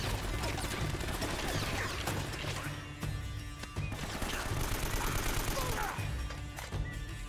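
Gunfire and crashing impacts in the video game Uncharted: Drake's Fortune, a loud, dense run of shots and smashes filling the whole stretch, with a voice speaking over part of it.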